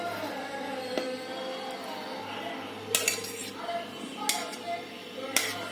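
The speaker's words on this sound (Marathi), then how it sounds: "आता मी हा मसाला आहे ना ह्याच्यात घालते, मिक्सरच्या भांड्यात घालते" Cooled masala being put into a steel mixer jar for chicken handi, with several sharp metallic clinks and clatters spaced a second or so apart over a low hum, close and fairly quiet.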